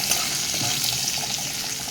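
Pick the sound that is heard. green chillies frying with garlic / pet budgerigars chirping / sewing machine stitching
green chillies frying with garlic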